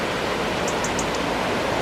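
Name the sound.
river rushing by in Sedbergh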